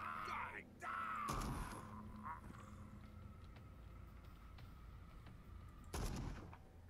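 Two heavy gunshots in the video game Call of Cthulhu, one early and one near the end, booming over a quiet ambient game background with faint voices.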